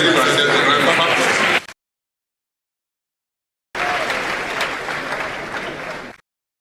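Dense audience applause at a university matriculation ceremony, loud and sustained, breaking off abruptly into silence for about two seconds before a second steady burst of clapping resumes and stops sharply.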